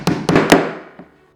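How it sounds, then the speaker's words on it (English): Hammer blows driving a homemade paper-making mould down onto a table: three loud, sharp knocks in quick succession, then a softer fourth tap after a short pause, with no voices. "I hammered it to the table."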